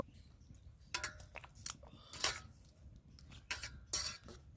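Garam masala being stirred into cooked fish curry, several soft scraping and clinking strokes of a utensil against the pot, close and intermittent, no voices.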